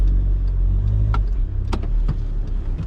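A VW Caddy van with a 2-litre TDI diesel reversing, its low steady engine drone close and constant, with a few brief clicks and knocks over the top.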